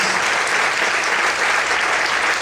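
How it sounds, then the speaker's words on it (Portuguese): A church congregation applauds in praise during a worship service, a dense, steady wash of many hands clapping at close range, sustained and even throughout with no voices standing out. "Aplauda o Senhor e glorifica Ele"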